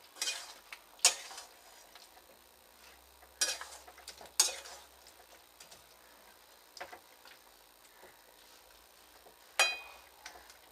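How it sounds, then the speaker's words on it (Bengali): A spoon stirs bottle gourd and shrimp in a kadai, giving a few sharp scraping clanks spaced several seconds apart over a quiet background. "এবার একটু নেড়ে নেব"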